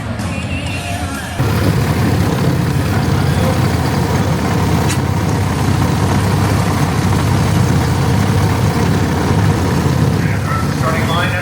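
Small gas engines of the Barney Oldfield Redwood Rally ride cars at California's Great America rev up and hold a loud, steady rumbling drone, with a brief quieter moment before the roar begins and voices mixed in.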